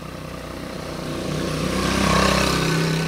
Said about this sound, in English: There's a hoodlum riding up on an SL125 here.